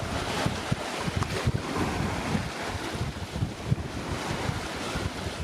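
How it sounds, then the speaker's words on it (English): Wind gusts and surf wash around a sailing yacht off Turkey's west coast, with a beam wind of about 18 knots: continuous broadband rush of waves and wind buffeting on the microphone, with occasional louder splashes and no talk. "We finally got some decent wind."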